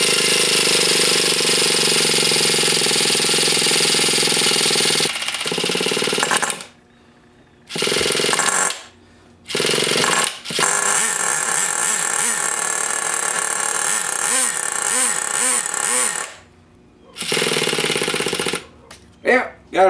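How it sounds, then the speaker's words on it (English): Loud, harsh buzzing bursts of a starter motor cranking the rebuilt engine of a Traxxas T-Maxx nitro RC truck, several runs of a few seconds separated by short pauses, with a wavering pitch near the end as it tries to fire. "Let's hook up the starter motor and we'll see if we can't get her to fire."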